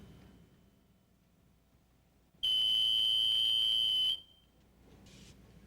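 A household smoke detector being tested shrieks with a loud, piercing continuous electronic tone for about two seconds before cutting off, with quiet room noise before and after.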